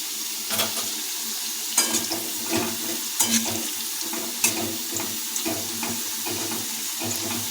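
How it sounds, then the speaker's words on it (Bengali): Fish pieces fry in hot oil for a fish-head chachra with mixed vegetables, giving a loud, steady sizzle broken by occasional stirring clinks and scrapes, with no voices. "আর কিছুক্ষণের মধ্যে বইতলের টুকরোগুলো ভাজা হয়ে আসবে"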